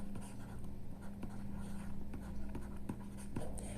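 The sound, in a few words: writing equations on a board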